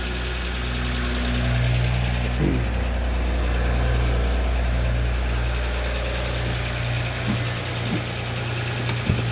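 A Ram EcoDiesel engine idles after a full delete, a steady low rumbling diesel drone with faint ticking, close and continuous throughout.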